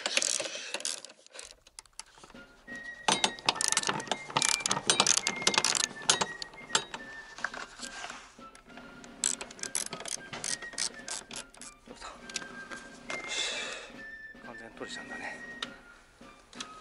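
A ratchet tightens a bolt on the rear seat of a Suzuki Every DA17V van, giving rapid bursts of ratcheting clicks and metallic clinks up close, with someone talking over them.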